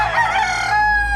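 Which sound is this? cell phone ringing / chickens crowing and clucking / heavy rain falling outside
chickens crowing and clucking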